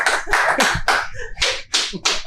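A small live studio audience of friends claps in quick, loud, uneven bursts close to the microphone, with no talking over it.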